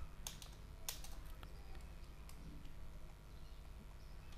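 Soft, sparse clicks of a computer keyboard being typed on, faint and close with low background hum, a few distinct keystrokes in a short burst.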